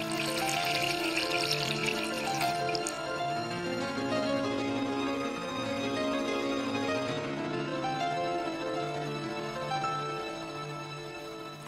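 Fresh tap water runs steadily from a faucet into a sink, a continuous close splashing flow that holds at an even level from start to finish, with no voices.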